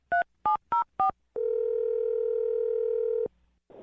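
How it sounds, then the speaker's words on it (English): Four short touch-tone dialing beeps in quick succession, then a steady telephone tone held for about two seconds, clear and close on a phone line. "I'm going to dial her phone number right now"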